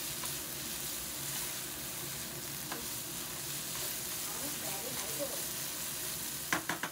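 Chicken ghee roast fries with fresh coriander in a pan, giving a continuous, moderately quiet sizzle with scattered pops and a few sharp spatula clinks at the end.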